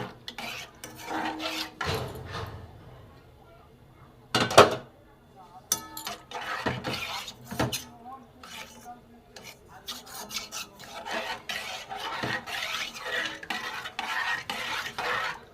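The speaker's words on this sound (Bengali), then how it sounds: "দুধটা গুলে নিয়েছি।" Powdered milk being stirred into a pot for bottle gourd payesh, a scraping, rasping spoon circling against the metal pot in uneven bursts, close and fairly loud, with clanks of the utensil and pauses between strokes.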